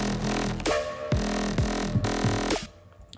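A Massive synth patch played dry, without any ring shifter effect, in a short passage of sustained, harmonically rich tones with several sharp attacks. The notes are loud and close, and no voice is heard.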